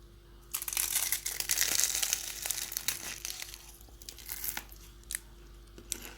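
Crisp crackling crunches of flaky Turkish börek pastry, loud and close at first, then scattered lighter crinkles, with no voices.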